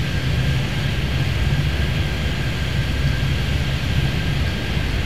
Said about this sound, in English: 948, cleared for takeoff, runway 10 right